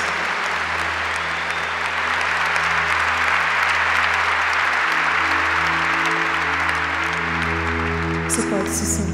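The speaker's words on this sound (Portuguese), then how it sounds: "Aplaudamos a palavra de Deus." A church congregation applauds in a dense, steady roar of clapping that fills the space for the whole stretch, with a low hum underneath and no voices rising above it.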